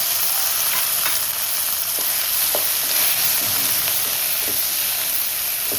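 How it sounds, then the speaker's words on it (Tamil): Steady sizzling and hissing of onions and chilies sautéing in a hot pan, with occasional scraping of a spoon stirring, close and continuous. "நல்லா வதங்கட்டும். எல்லாம் நல்லா வதங்கிட்டு இருக்கு."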